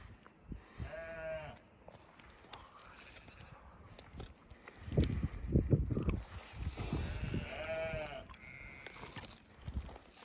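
Lonk sheep bleating on a Yorkshire Dales farm, two clear wavering bleats a few seconds apart, with rustling and low handling noise in between and a faint voice in the background.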